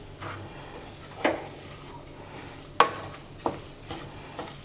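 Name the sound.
roasting wheat flour with chopped walnuts in a pan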